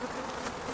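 Honey bees buzz loudly and steadily close up at an open beehive during a brood-frame inspection, with a dense, continuous hum.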